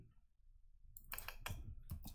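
Computer mouse clicks on a website, a short close run of crisp, quick clicks following a quiet pause.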